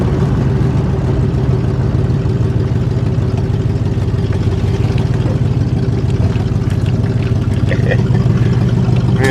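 A Ford Granada engine runs steadily close by as the car drives and shifts gears, a constant mid-pitched drone with faint clattering and no talk.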